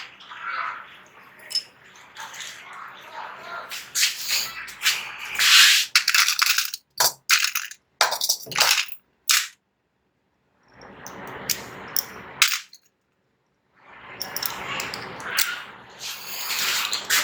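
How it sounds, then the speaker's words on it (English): Screws being driven into an HP laptop with a magnetic screwdriver: close rubbing and scraping turns in bursts, a few sharp metallic clicks and clinks, broken by short silent gaps, with no talking. "take a magnetic screwdriver and fix these two screws."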